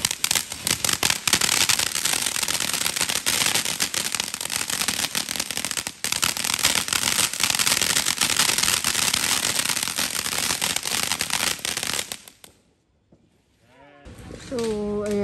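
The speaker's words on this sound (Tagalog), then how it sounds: "ang ingay po dito sa mga paputok" Dense, continuous crackling bursts of firecrackers going off nearby for about twelve seconds, then a sudden lull before a voice speaks.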